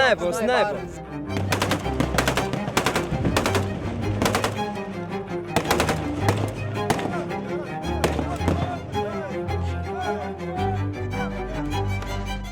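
Sniper gunfire during militia clashes in West Africa, a series of sharp, loud cracks and bursts repeating irregularly over a constant busy background.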